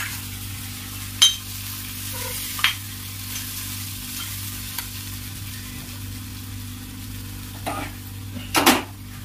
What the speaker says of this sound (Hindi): जो मसाला हमारा बैंगन बचते हुए बच गया था वो भी हम इसी में डाल देंगे और फिर से मिलाएंगे एक बार